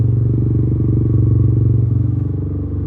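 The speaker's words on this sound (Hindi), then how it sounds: "तो थोड़ा सा और रेविंग करके इसके इंजन के टेम्परेचर को और ज़्यादा बढ़ाया जा रहा है" A Yamaha YZF R15 V3 BS6 motorcycle engine runs during servicing, with a loud, steady, close throb and rhythmic pulsing at a fairly even speed.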